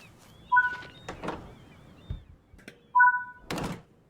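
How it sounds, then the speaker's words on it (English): A locomotive cab door in Train Sim World 3 on the West Somerset Railway thunks and clicks through several distinct knocks, with two short whistle-like squeaks between them. The sounds are crisp and close in a quiet setting. "Enter the cab through the door indicated."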